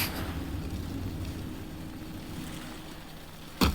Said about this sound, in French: Tu vois, c'est un bateau, ça va dans l'eau.